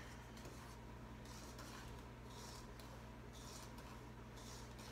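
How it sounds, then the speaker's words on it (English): Brownie batter stirred in a bowl, giving a rhythmic scraping swish in repeated strokes over a steady background hum, close and moderately loud. "And now we just stir it"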